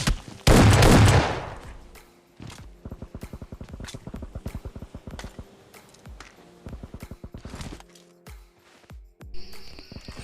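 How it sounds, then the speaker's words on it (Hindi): Rapid video-game gunfire from an S12K shotgun and an M416 rifle in a battle royale match: an opening blast, then dense bursts of sharp repeated shots with brief pauses, loud and close. "यहाँ पे शॉटगन का कमाल।"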